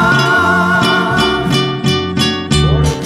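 The song Fuente de Agua Viva plays over a Christian radio broadcast, a loud, full musical passage with steady rhythmic chord changes and bass, heard alone without talk.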